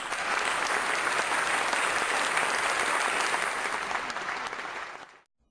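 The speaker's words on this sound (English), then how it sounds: "I think that deserves a huge round of applause, don't you, ladies and gentlemen?" A studio audience on the Who Wants to Be a Millionaire game show bursts into dense, sustained applause that holds steady for several seconds before cutting off quickly.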